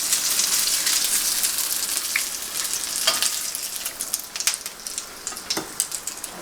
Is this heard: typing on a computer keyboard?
no